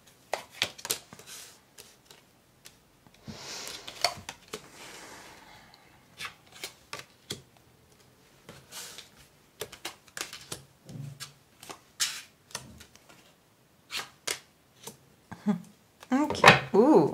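Tarot cards cut and shuffled by hand, a run of quick riffling flutters and soft card slaps in bursts, close up, with someone speaking French between them.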